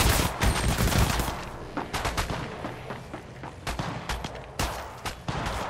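Heavy gunfire in Apex Legends Mobile during a squad fight: dense, loud automatic bursts and overlapping shots, rattling nearly continuously with brief gaps between volleys.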